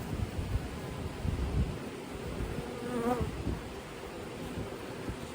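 Honey bees buzz steadily in an open hive during an inspection of a frame where the queen roams and workers handle syrup, a dense continuous drone with a brief louder pass from a single bee up close.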